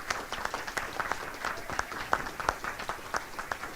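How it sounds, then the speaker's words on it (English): An audience at a Maryland State Firemen's Association executive committee meeting applauds volunteers. A dense, steady round of clapping from many hands runs throughout at moderate loudness, with faint voices mixed in. "I just want to give these folks a good round of applause and say thank you for everything that you did"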